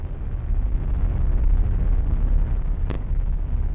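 Rocket explosions fired from a light escort ship in the space strategy game Battlefleet Gothic: Armada, a steady deep rumbling roar of blasts with one sharp crack near the end.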